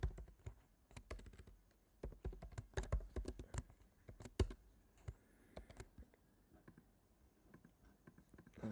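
Fast, uneven bursts of computer keyboard typing while coding a tic-tac-toe game in Golang, crisp close key clicks with short pauses, quiet and without talk.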